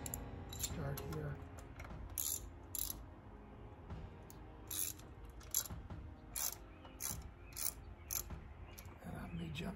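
Bolts on a 2014 Dodge Durango Citadel water pump being tightened in a staggered pattern, heard as quiet, scattered metallic ratchet clicks and clinks close by, with short bright bursts spread across the clip.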